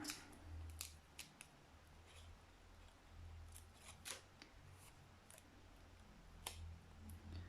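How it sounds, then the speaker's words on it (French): Sharp scissor snips and clicks come at irregular intervals over a low hum as scissors cut tape, faint and close, with no talking. "Si vous trouvez que c'est trop long, vous recoupez votre scotch."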